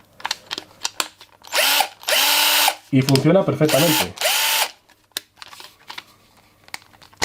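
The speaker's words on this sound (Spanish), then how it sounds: "Muchas veces las he utilizado para alimentar este tipo de taladros y funcionan perfectamente." A cordless drill powered by a Parkside Lidl battery runs in several loud bursts, its whine spinning up and down between pauses, and someone speaks briefly over it.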